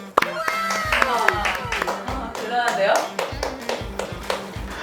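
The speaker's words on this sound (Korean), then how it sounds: "박수 한번 쳐주세요." Baseball fans of the KT team clap together on a broadcast, sharp rhythmic claps in a steady beat over a low repeating thump, with a voice speaking over it.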